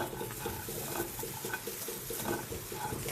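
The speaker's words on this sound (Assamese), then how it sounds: "এতিয়া এইফালে এখন কেৰাহী বহাই দিছোঁ আৰু ইয়াত ভেন্দিখিনি তেল নিদিয়াকৈ শুকানে আমি ফ্ৰাই কৰি ল'ম" Chopped okra dry-fries in a kadai without oil, making a steady, dense sizzle with faint stirring scrapes close by and no voices.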